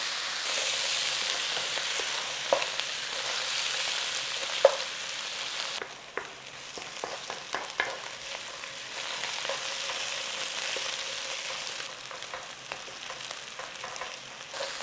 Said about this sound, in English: so we're going to start frying these onions now